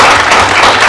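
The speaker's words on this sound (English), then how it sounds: "please just help me to clap for them and just appreciate them." An audience at an anniversary celebration for a safety and security organisation gives a brief, dense burst of applause. The sound is a loud, even wash of many hands clapping together, with no talk over it.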